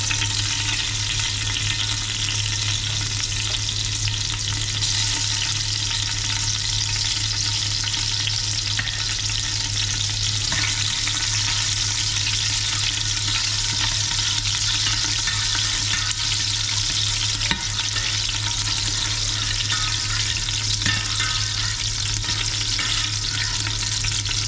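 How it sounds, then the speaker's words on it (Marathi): Chilies sizzle and crackle steadily in hot oil in a pan, a loud, continuous frying hiss with occasional stirring noises and no voices. "तर तेल तापलं, आता आम्ही मिरची टाकून घेतोय."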